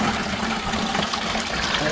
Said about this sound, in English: So we'll drop that lower rad hose and we'll dump all the fluid out of this thing again.